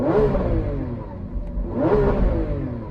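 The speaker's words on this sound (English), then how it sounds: "Now for the Ultimate. I'm going to rev this up." A Lamborghini Aventador Ultimate engine revved twice while stationary, each rev rising in pitch and falling back, loud and close, with a steady idle rumble between them.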